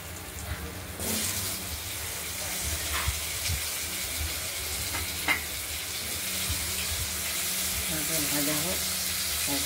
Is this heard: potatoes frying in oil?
yes